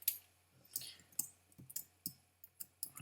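A computer mouse clicks softly and repeatedly at close range while text is being added in the Animoto video editor, giving a run of quick, quiet taps.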